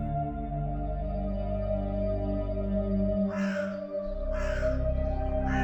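Two loud, harsh caws from a crow ring out in the second half, close by, over a steady droning hum.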